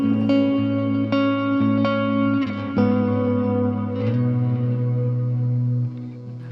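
Electric guitar chords struck through a reverb effect, several strums ringing out into a long, washy tail that slowly decays; played alone with no talking.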